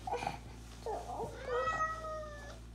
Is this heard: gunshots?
no